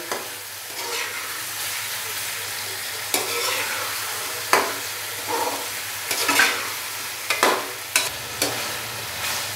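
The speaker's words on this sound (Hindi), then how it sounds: "चिकन को अभी हम अच्छे से फ्राई कर लेंगे तकरीबन 5 से 7 मिनट के लिए" Chicken pieces for white chicken pulao fry in oil in a pot, giving a steady broadband sizzle with repeated scraping stirs and clanks against the metal at irregular intervals, close and moderately loud with no talking.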